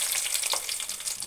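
Cumin, seasoning spices and onions sizzle in hot oil in a pan, a steady crackling hiss with small pops, close and fairly quiet, with no talking.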